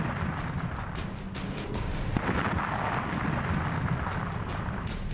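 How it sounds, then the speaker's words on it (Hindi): Two missiles fired by the Ukrainian navy strike a Russian navy ship at sea. A loud, continuous rumbling roar carries repeated crackling bursts throughout, with no voices. "यूक्रेन की नेवी ने सिर्फ 20 सेकंड में एक के बाद एक दो मिसाइलों से निशाना साधा"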